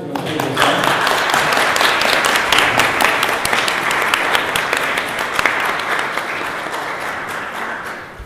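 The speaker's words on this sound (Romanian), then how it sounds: "Vă aplaudăm de Corina, de Francesc de Sfânt." Audience applause at a Romanian literary commemoration of the poet Daniel Turcea, marking 40 years since his death: dense, sustained clapping from a full room that fills the whole stretch at steady loudness, easing slightly toward the end.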